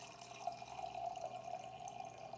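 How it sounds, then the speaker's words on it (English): Liquid is poured steadily into a container in a small classroom group setting. It makes a continuous, soft trickling and filling hiss, close and quiet, with no one speaking. "Watch Miss April pour this in here, and let's see if it holds all of that liquid."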